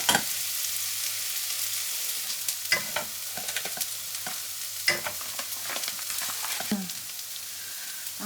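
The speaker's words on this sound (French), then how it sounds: "On fait fondre un bout de beurre. Du beurre breton." Breton butter melts in a hot pan with a steady bright sizzle throughout, broken by a few scraping stirs and light clicks, close and continuous with no talking.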